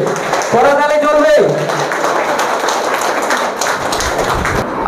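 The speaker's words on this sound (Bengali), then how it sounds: "করতালি চলবে" A brief voice calls out, then steady crowd applause fills a business dealership seminar hall for several seconds.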